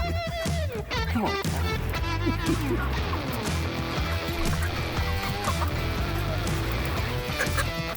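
A flock of Red Ranger chickens eats fermented feed in a chicken tractor, giving busy overlapping clucks and soft calls up close. The sound is continuous and dense throughout.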